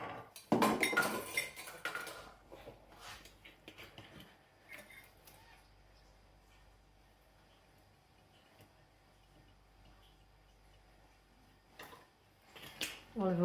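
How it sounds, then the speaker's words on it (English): Linked measuring cups clink and rattle together in a home kitchen, with bright metallic jangles at the start, a quiet stretch with faint handling, and more clinks near the end. "I sound like one of those cows with cowbells because I've got all the cups linked together at home"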